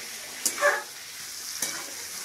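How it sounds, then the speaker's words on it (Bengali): Tengra fish frying in a pan, a steady soft sizzle with a few brief scraping stirs, close and moderately quiet, no voices. "এবারে আমি এই ট্যাংগুলা দিয়ে নিয়েছি, এবারে এটার সঙ্গে আমি কিছুক্ষণ এইভাবে ভাজবো"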